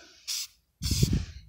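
Mothers Back to Black trim restorer sprayed onto car trim, going on wet: a short close hiss of the nozzle, a brief pause, then a longer, fuller spray burst.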